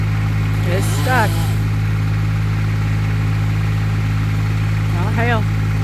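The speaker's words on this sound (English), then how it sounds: "Chainsaw stuck." A chainsaw runs with a steady, droning engine hum while a tree is being cut for firewood, close and continuous throughout, with voices calling out briefly over it.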